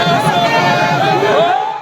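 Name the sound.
crowd of excited supporters cheering at airport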